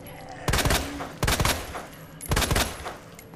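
Gunshots in the survival horror game Resident Evil 2, three loud separate shots spaced about a second apart, each followed by a brief echoing tail.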